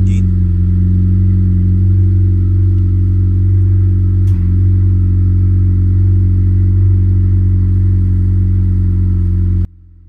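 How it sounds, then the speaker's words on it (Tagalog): A Honda City RS with an HKS chambered muffler idles loudly and close after a cold start, with a heavy, steady low rumble and slight clatter, running continuously before cutting off near the end. "ipaparinig ko sa inyo kung ano yung tunog ng cold start engine"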